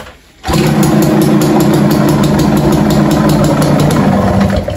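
An old motorcycle engine catches after a brief quiet moment and settles into a loud, steady, close idle.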